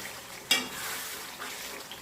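Chicken with chopped capsicum and ginger sizzles in a pan, a steady close frying hiss broken by a sharp stirring scrape and a few softer utensil touches.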